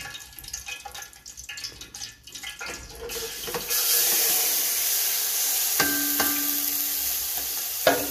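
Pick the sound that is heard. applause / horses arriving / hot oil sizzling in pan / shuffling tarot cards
hot oil sizzling in pan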